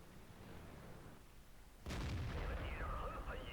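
A WZ-120 tank cannon fires in World of Tanks on the Live Oaks map. One sudden, booming blast comes after a quiet hum, followed by a rolling rumble and whining mechanical tones that fade slowly.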